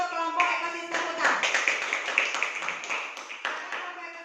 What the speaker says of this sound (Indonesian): silakan berikan tepuk tangan terlebih dahulu untuk kelompok ekosistem hutan